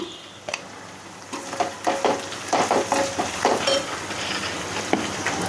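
Ginger and garlic fry in a pan for a Godavari-style vanjaram fish curry, a close sizzle broken by scraping and stirring strokes of a spatula.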